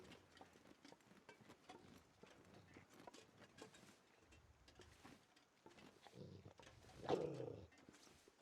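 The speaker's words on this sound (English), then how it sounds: "no, that is definitely a bark." A single faint bark sounds near the end, amid quiet wind-swept ambience in the survival game The Long Dark, while someone talks softly over it.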